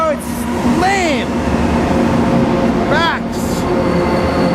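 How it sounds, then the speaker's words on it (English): A train rumbles steadily nearby, with loud wheel squeals rising and falling twice over the constant noise, and speech mixed in. "Look at this train."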